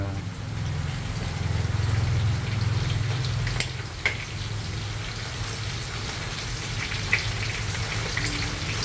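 Food fries in oil with a steady, close sizzle and crackle throughout, accompanied by a few faint clicks and stirring sounds.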